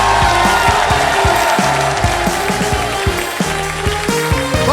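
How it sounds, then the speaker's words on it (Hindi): Studio audience applause and cheering on a Hindi Wheel of Fortune game show, a steady wash of clapping mixed under loud, beat-driven show music. "जोरदार तालियां।"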